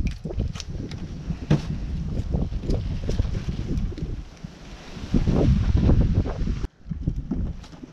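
Gusty wind buffets an outdoor camp while meat is being processed, rushing and rumbling across the microphone with a louder surge near the end and brief handling bumps.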